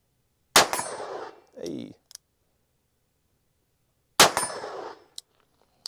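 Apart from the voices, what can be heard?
Colt Python revolver firing .357 Magnum rounds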